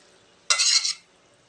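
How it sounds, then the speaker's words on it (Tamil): Masala vermicelli tossed in a pan with a spoon: one short, close scraping swish of about half a second amid otherwise quiet kitchen background. "சேமியாவில் நல்லா மசாலா இறங்குற மாதிரி நல்லா கலக்கி விட்டுக்கலாங்க"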